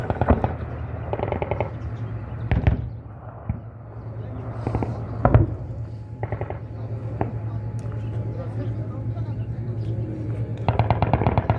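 Bursts of gunfire ring out during an Indian-US joint military firing exercise, rapid crackling volleys and single sharp shots at a moderate distance over a steady low engine drone.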